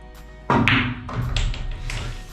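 A pool cue strikes the cue ball with top right spin on a billiards table: one sharp, close tap, followed by softer knocks and a rolling rumble as the ball travels and contacts cushions or another ball.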